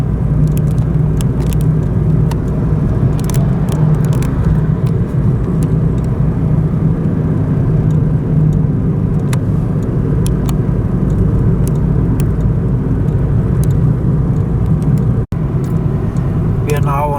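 A car drives out of town on a road in Bueng Kan, Thailand, heading toward Nong Khai, its steady engine and tyre rumble continuous and fairly loud, with a voice talking over it throughout.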